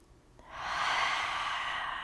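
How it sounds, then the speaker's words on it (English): A single deep breath during a yoga tree pose session, a soft airy rush rising after a faint click and holding steady for over a second, close and quiet with no talk. "I want you to take 3 deep breaths. So deep inhale, deep exhale."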